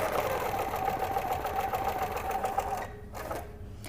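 A sewing machine stitches along a quilting template ruler with a steady, fast mechanical whir and hum. It runs loud and close for a few seconds, then stops with brief pauses.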